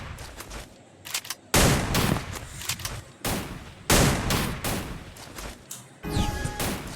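M590 shotgun blasts in the Free Fire battle game, several loud sharp shots in irregular bursts with brief gaps, mixed with other gunfire and impact crashes.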